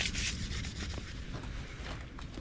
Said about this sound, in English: Rubbing off all that old surface rust in some areas, especially around like these bolt holes and stuff.